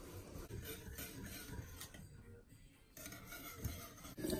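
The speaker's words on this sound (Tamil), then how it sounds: "விஸ்க் வச்சு லம்ப்ஸ் இல்லாமல் நல்லா விஸ்க் பண்ணிக்கோங்க." A whisk works steadily through curd and condensed milk in a bowl, making soft continuous rubbing and scraping strokes at close range, faint and without talk.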